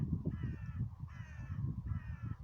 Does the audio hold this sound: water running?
no